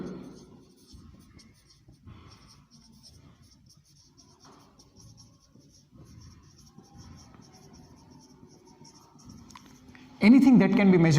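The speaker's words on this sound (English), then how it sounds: "I am writing this in short." A pen scratches faintly on paper as short notes are written during a physics lesson on motion, with sparse quiet strokes over a soft background hum before a sudden louder burst of noise at the end.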